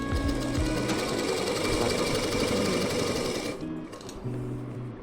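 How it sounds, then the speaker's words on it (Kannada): Usha sewing machine run by pressing the foot pedal, stitching with a close, rapid mechanical chatter and whir that slows near the end, pauses briefly, then gives a short final burst. "ಪ್ರೆಸ್ ಮಾಡಿ ಮಿಷಿನ್ ರನ್ನಿಂಗಲ್ಲಿ ಇರಬೇಕು, ಕಾಲಲ್ಲಿ ತುಳಿತಾನೆ ಇರಬೇಕು"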